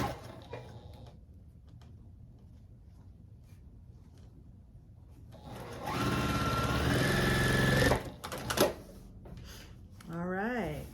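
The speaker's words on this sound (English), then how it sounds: "Sew this part down." A sewing machine stitches a quilt block. Faint handling noises come first, then a loud, rapid mechanical whirring burst lasts about two seconds before stopping. Brief talk follows near the end.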